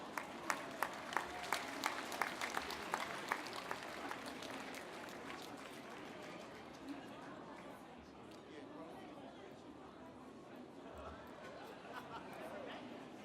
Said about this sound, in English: let's give this man a big round of applause